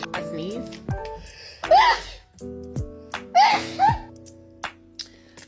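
A woman sneezes several times in a sneezing fit while changing her nose ring, with breathy gasps and giggly, speech-like sounds between the bursts.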